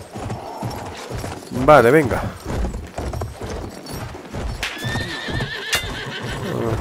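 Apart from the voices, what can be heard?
horse galloping and neighing in video game Battlefield 1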